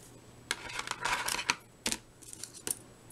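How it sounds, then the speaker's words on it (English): Small scissors snip score tape while a birthday card is made, giving a few sharp, quiet cuts and light crafting clicks in a hushed room. "And I'm using these scissors so that the score tape doesn't stick to it."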